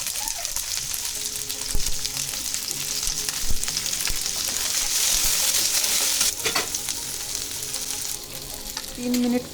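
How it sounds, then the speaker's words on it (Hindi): Chopped onion, capsicum, ginger and garlic fry in a pan for chilli mushroom, crackling and sizzling steadily at close range while a utensil stirs and scrapes now and then. "उसके बाद में प्याज और कैप्सिकम डाली और छोटे छोटे कटा हुआ अदरक लहसुन भी डाल दी और अच्छे से फ्राई की"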